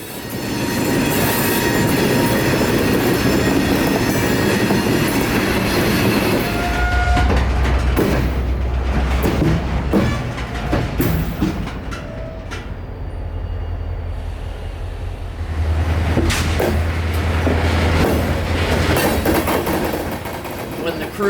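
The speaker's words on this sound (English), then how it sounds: "And now the crew finishes the squeaky job by pushing in the loaded tank." A freight train crew pushes a loaded tank car into an industry siding, with loud continuous wheel squealing and grinding over a low rumbling engine, and the screeching rises and falls throughout.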